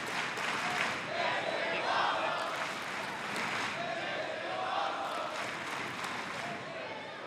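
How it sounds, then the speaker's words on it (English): A wrestling arena crowd at a women's championship main event roars in a continuous, distant swell of cheering that rises and falls slightly throughout. "the crowd coming alive for both athletes in our main event"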